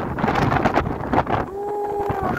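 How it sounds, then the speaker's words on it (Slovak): Strong wind on the coast at Pag island, Croatia, buffets the microphone in loud, gusty roars, with a steady tonal whistle emerging in the second half. "Vetrisko fúči, ako vždy."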